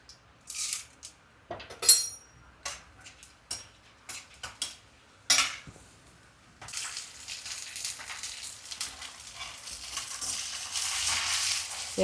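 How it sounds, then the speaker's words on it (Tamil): Mustard seeds drop into hot oil in a home kitchen. A few sharp utensil clinks come first, then a steady close sizzle and crackle of frying. "எண்ணெய் காஞ்சிருச்சுங்க, கடுகு போட்டுக்கலாம்."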